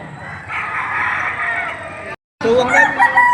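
A rooster crows loudly and close by at a poultry market in Padre Garcia, Batangas. It is a single drawn-out call, followed by a brief gap and then more crowing and clucking amid market noise.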